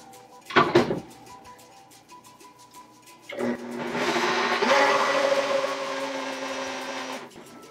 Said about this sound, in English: let's blend this baby up